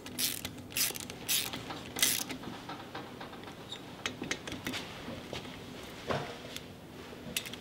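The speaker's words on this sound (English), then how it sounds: "now we're torquing these to 6 foot-pounds, which is not very much, but it's aluminum casing" Torque wrench ratcheting bolts into an aluminum casing on a rotary engine being rebuilt for an ATV, tightened to a low torque; a run of close, sharp mechanical clicks and clatters in bursts, with no talk.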